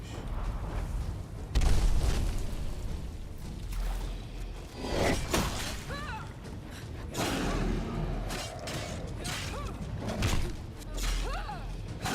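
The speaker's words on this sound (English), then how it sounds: "Explosion." An explosion in a heavily modded Skyrim game sets off booming bursts and rushing whooshes that rise and fall over several seconds, with a steady rumble underneath.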